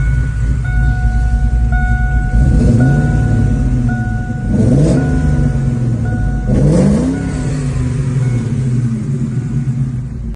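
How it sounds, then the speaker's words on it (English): A tuned Shelby Cobra engine idles with a steady rumble, then revs up sharply three times, each rev rising and falling back to idle. "he sent me videos of the car running"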